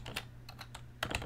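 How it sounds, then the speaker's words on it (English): Keys clack on a Color Computer keyboard as someone types BASIC, a few quick keystrokes in two short bursts split by a brief pause, close and clear. "Lord help me with this keyboard."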